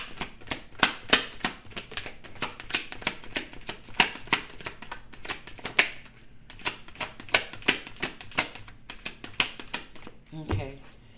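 A deck of tarot-style cards is shuffled for a reading, giving quick riffling and repeated soft slaps close by, with a voice speaking quietly over parts of it.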